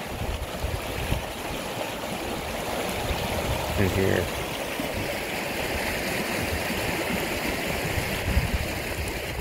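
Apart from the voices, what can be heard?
river flowing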